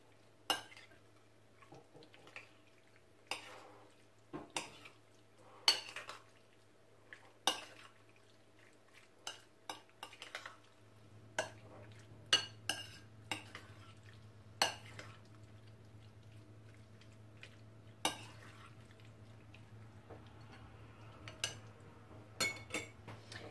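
A spoon stirs cooked fruit together with kiwi in a pan, giving sharp scattered clinks and scrapes against the metal over a low steady hum, close and quiet, with no talking.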